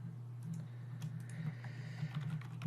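Typing on a computer keyboard during a Houdini VFX tutorial, a run of quick, soft, irregular key clicks over a steady low hum.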